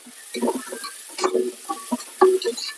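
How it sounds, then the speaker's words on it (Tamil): Onions sauté in a pan for a vegetable biryani lunch. A low sizzle sits under a few short, close stirring scrapes and taps spread across a couple of seconds. "சரி, வெங்காயம் வந்து நல்லா வதங்கட்டும்."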